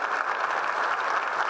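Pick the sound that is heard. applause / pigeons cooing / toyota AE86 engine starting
applause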